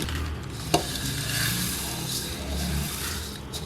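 Fine vermicelli noodles, 200 grams, broken up by hand in a bowl for kunafa, giving a soft, continuous dry crunching and rustling close by, with one sharper snap early on.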